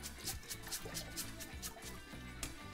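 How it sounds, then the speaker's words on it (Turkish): Water drains from freshly rinsed rice for eggplant pilaf, a close, continuous trickle with a faint rhythmic dripping throughout. "Şöyle suyunu süzdürmeye bırakıyorum."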